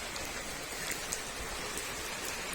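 Steady rain pours down around a house, a continuous even hiss of drops with water running off the roof, close and moderately loud with no talking.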